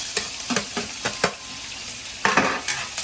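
Onion dropping into a pan of frying garlic for adobong labong, followed by close spoon scrapes and clinks against the pan over a soft sizzle, a few sharp strokes then a short louder burst.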